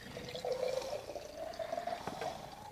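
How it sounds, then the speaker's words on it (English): Water pours into a glass container with a soft, steady trickle whose pitch shifts as it fills, faint and close, with no talking. "And if I pour water now into this glass container."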